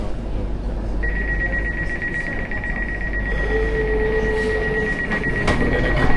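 Steady low rumble of an Elizabeth line train running toward Southall, heard from inside a carriage, with a sustained electronic tone and beeps over the noise.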